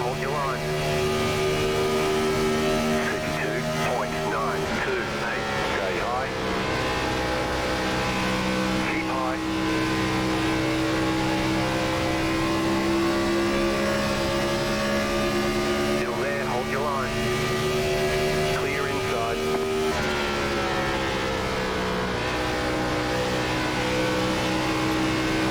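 Sustained roar of a NASCAR Gen4 stock car engine at Chicagoland in iRacing, its pitch sweeping up and down through throttle changes for the whole stretch, with a commentator talking over it.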